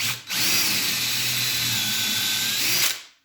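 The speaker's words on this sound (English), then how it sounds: "We get our drill bit." A power drill whirs steadily for about three seconds after a brief start, biting into a wooden cabinet side to bore a shelf-pin hole, loud and close, then stops.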